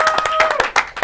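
Brief applause breaks out at a sports talk show: a short, close burst of hand claps, dense and irregular, lasting about a second.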